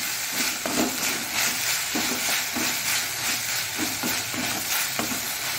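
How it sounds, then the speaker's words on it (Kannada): Jackfruit and ridge gourd pieces fry in a pan with a continuous sizzle, and a spatula scrapes through them in repeated rhythmic strokes close by. No one speaks. "ಸ್ವಲ್ಪ ಹೊತ್ತು ಹೀಗೆ ಇದರಲ್ಲಿ ಫ್ರೈ ಮಾಡ್ತಾ ಇರಬೇಕು ನಾವು ಇದನ್ನು"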